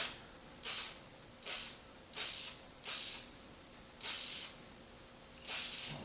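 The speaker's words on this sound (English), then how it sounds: "we're going to go ahead and put the adhesion promoter on there and get ready for the fuser" Adhesion promoter sprayed from an aerosol can onto a Ford Flex plastic bumper cover during repair, heard as six short, bright hissing bursts spaced about a second apart, close and alone against a quiet room.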